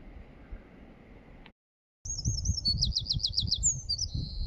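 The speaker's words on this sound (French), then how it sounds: "Les oiseaux chantent." Birds singing outdoors in a Breton village, a string of bright repeated chirps and trills over a low breezy rumble, fairly clear and close.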